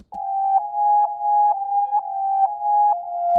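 A buzzy, thin synth tone holds one pitch with regular pulses every half second, raw and unpolished, playing alone without other sounds.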